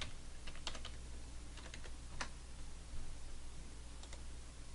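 Quiet computer keyboard typing a folder name, a few short bursts of light key clicks scattered over a steady background hiss, with no voices.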